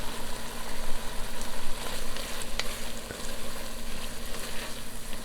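Cherry tomatoes frying in hot olive oil give a loud, steady, close sizzle with crackling and a few sharp pops, continuous throughout with no talking.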